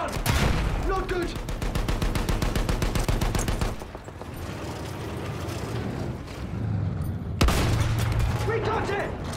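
Rapid rifle and machine-gun fire and the heavy boom of a field gun in a First World War shooter video game, with someone talking excitedly over the bursts. The fire is dense and rattling at the start, then fades out and later returns with a sudden loud blast.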